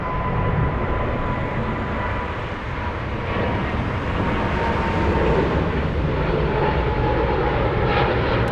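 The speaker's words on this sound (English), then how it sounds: "My plan is to stay for this one, for the takeoff." An airliner takes off at Frankfurt airport, its engines a loud, sustained broad roar that swells slightly midway and stays strong to the end, with no one talking.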